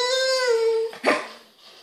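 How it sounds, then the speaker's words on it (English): A Boston Terrier or pug puppy makes a long high whining whimper, then a short sharp yip-like squeak trailing off, close and fairly loud. "There's some crazy noise making puppies."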